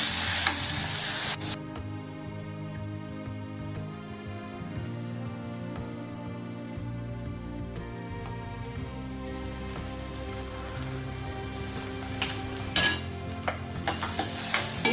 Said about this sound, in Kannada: ಬೆಂಡೆಕಾಯಿ ಹಾಕಿ ಒಂದು 2-3 ನಿಮಿಷ ಹೀಗೆ ಚೆನ್ನಾಗಿ ಹುರ್ಕೊಳ್ಬೇಕು